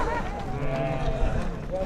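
A sheep bleats a few times at close range over a murmur of people talking nearby, the calls wavering and drawn out.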